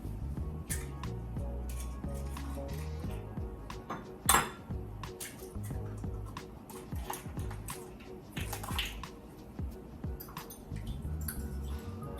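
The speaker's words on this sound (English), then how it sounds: "Whisk it a little bit." Eggs are whisked in a bowl, a rapid run of light clinks and taps of utensil against the dish, close but moderate in level, continuing over a steady low background hum.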